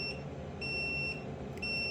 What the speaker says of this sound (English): It gives you the 3 beeps to tell you when it's up.